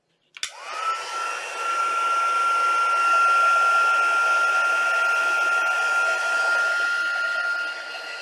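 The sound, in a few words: heat tool activating embossing powder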